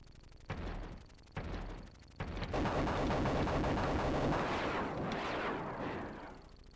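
Rapid bursts of weapon fire from the Sega Mega Drive helicopter game Urban Strike, set in a desert, begin as short separate volleys and then merge into a loud, continuous roar of shots and blasts.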